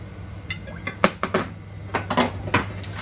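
Metal pan with a bit of oil handled on high heat for a vegetable stir fry: irregular clanks, taps and scrapes of pan and utensils over a low steady hum, close up.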